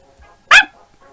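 A single short dog bark in the Undertale video game, sharp and loud against faint quiet background tones.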